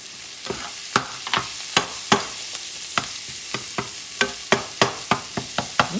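Smoked paprika is stirred into a sizzling pan for Spanish lamb chops, a soft steady fry with a dozen or so sharp scraping clicks of the spoon against the pan.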